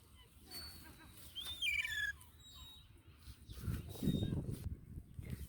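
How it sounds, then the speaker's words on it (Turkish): Gull chicks call with thin rising chirps and a short squawking burst outdoors, faint and intermittent over low background rumble and muffled voices. "Şurada da martı yavruları var."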